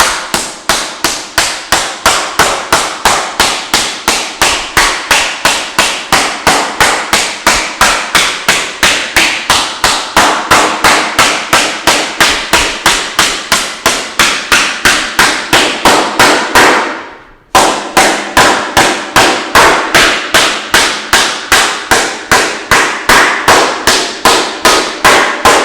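A metal panel hammered over a shaping bag, steady rhythmic blows repeating for about seventeen seconds, a brief pause, then the same even hammering resumes, loud and close with no talking.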